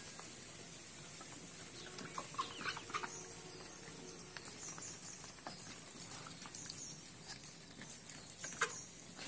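Chickens and chicks clucking softly in a village yard while ducks feed nearby, faint and scattered, with light pecking and patter sounds.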